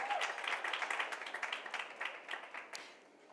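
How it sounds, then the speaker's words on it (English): Audience applause at a women's corporate breakaway session, a fairly faint, even patter of many hands clapping that tapers off toward the end, with no talk over it. "A round of applause for her,"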